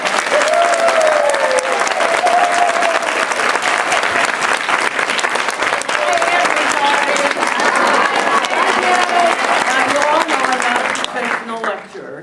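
Audience applause at a quilt show welcoming a quilting speaker, a dense, steady roar of many hands clapping from start to end, tapering off in the final second, with a voice or two briefly audible over it.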